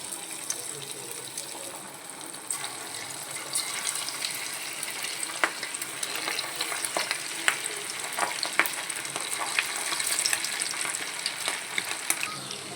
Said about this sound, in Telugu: ఇప్పుడు ఒక్కొక్కటి చికెన్ ముక్క అనేది ఇందులో ఆయిల్లో వేసుకుంది.